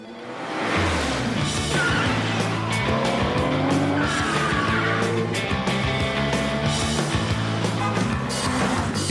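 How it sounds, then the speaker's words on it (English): BMW 3 Series coupe, the most powerful version with 300 horsepower and a twin-turbo engine, heard in a TV commercial as a loud, steady engine roar mixed with squealing, skidding tires and backing music. "Introducing the most powerful BMW 3 Series coupe ever, with 300 horsepower and twin-turbo technology"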